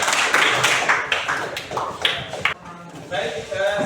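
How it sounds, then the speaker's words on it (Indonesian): An audience claps for a group in a classroom, with light, scattered applause and tapping running for a few seconds while voices talk over it. "kita beri aplaus terlebih dahulu kepada kelompok"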